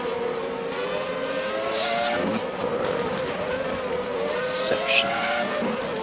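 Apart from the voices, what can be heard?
Formula E race cars racing through curves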